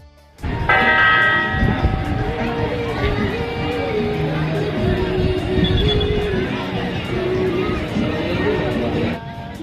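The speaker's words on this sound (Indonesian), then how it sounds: "Dan loncengnya akan berbunyi setiap setengah jam sekali." Jam Gadang clock tower bell in Bukittinggi ringing with steady sustained tones that hold throughout, layered over a busy outdoor crowd murmur and chatter.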